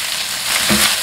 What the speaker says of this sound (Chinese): 开小火把鱼骨煎至金黄